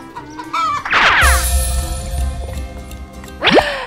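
A chicken lets out sharp, squawking calls near the start and again at the end, with a steady low hum running underneath.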